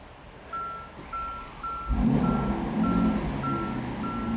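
A Lamborghini Aventador SVJ Roadster powers up while running its system check: a string of evenly spaced electronic beeps, then a low mechanical whir and hum that rises and holds beneath them, close by with no voices.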